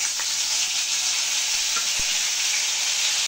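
A paste of cumin, coriander and ginger hits hot oil in a frying pan for a Bengali potato dish, giving a loud, steady, close sizzle with a few faint clinks beneath it.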